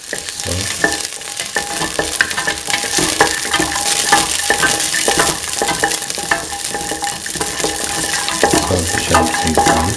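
Shallots and garlic sizzle loudly in a hot pan while being stirred, with a constant crackling fry broken by frequent scraping and clinking strokes of the utensil against the pan.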